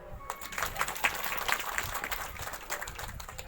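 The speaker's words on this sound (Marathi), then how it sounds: "माझ्या बीबी ताईसाठी एक बाग टाळ्या वाजवा" A seated audience at a retirement ceremony claps steadily for several seconds, a dense, even patter of many hands heard from within the hall.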